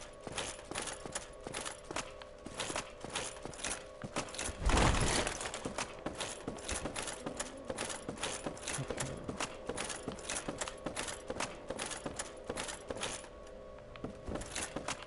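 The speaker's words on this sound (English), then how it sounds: "just hearing your own footsteps in this big empty place" Footsteps of a lone character echo through a big, empty place in Dark Souls Remastered, a steady, evenly paced tread that runs throughout with one heavier thud early on, and no voices.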